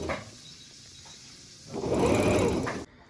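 A sewing machine stitches around the edges of a homemade reusable face mask's fabric, a short close whirring run that swells loud for about a second before stopping abruptly, with no talk over it.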